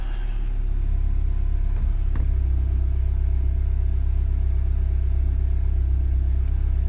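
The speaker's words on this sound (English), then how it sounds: "Start the car." A car engine fires up and settles into a steady idle, a close low rumble that holds constant for several seconds after a brief start transient, with no talk.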